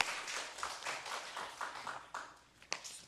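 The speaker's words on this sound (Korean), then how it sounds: "하나님께 영광의 박수 돌리겠습니다" A church congregation claps in applause after a sermon, a dense, fairly faint patter of many hands across a few seconds with irregular louder bursts.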